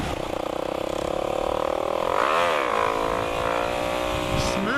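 A supermoto motorcycle engine revs on the throttle, a loud close buzzing roar that climbs and sweeps in pitch with rising and falling revs, with some voice under it.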